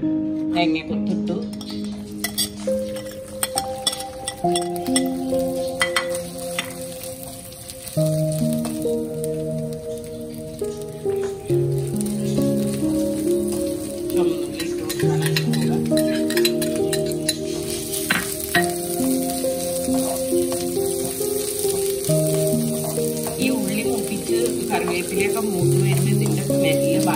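Chopped coconut pieces frying in hot oil while making Kalathappam, giving a steady, continuous sizzle and crackle that holds throughout with little change in level.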